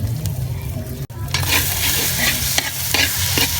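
Sardines sautéed with egg are stirred in a pan, giving a brief pause and then a loud, steady sizzle with repeated scraping strokes of a utensil.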